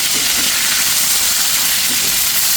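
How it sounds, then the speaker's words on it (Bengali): A large snakehead fish sizzling loudly in hot frying oil as it is turned over, with a dense, continuous hiss and spatter filling the whole stretch, close and steady. "এখন আমি মাছটা একটু উল্টে দিচ্ছি।"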